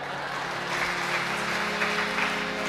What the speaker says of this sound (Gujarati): હજી તાળી પાડો ને ખમો.